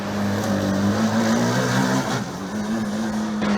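A Formula Student race car running on the endurance track at FSG 2018, its engine droning loudly and steadily with a strong low tone, slight pitch shifts as it changes speed, close by, with no talk.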